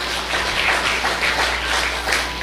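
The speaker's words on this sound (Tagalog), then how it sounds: "O malakas na palakpak sa ating Panginoon." A church congregation applauds, with dense, steady clapping that stays close and loud for the whole stretch and carries no speech over it.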